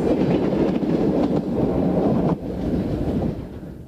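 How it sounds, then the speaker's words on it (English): A Milwaukee Electric electric locomotive runs at the Illinois Railway Museum, a loud, close rumbling roll with rattling wheels and a sudden drop in intensity partway before it continues more softly. "There are also electric locomotives, such as this example from the Milwaukee Electric."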